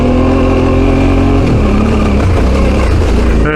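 Motorcycle climbing a wet hill after a headstock bearing adjustment, its engine loud and close as it revs and accelerates hard, the pitch shifting midway as it changes gear, with wind rumble throughout.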